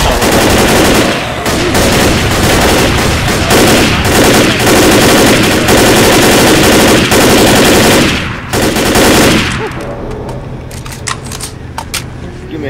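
Gunfire in the Left 4 Dead video game: dense, loud bursts of rapid automatic shots run for about nine seconds, then give way to quieter scattered clicks and thumps.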